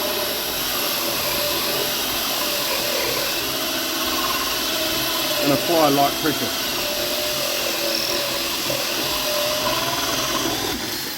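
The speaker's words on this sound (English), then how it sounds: "The drill bit needs to be on the fastest setting on the drill." A high, steady power drill whine runs throughout, with a brief grinding bite partway through as the bit cuts a hole in a solid-surface vanity top, while a voice talks over it.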